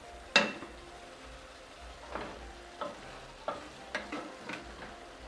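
Mongolian beef and spring onion greens get tossed and stirred in a hot pan, with soft sizzling under a string of sharp scrapes and clinks of the utensil against the pan.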